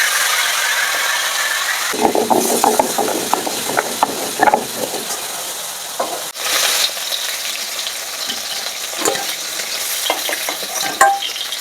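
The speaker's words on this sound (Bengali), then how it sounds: "মাছটা ভাজা হয়ে গেছে, মাছটা এখন নামাই নেব।" Fish frying in a pan in a village kitchen, a loud continuous close sizzle with repeated scraping and clattering from a spatula turning the pieces, no talk.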